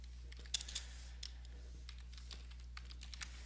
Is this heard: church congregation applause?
no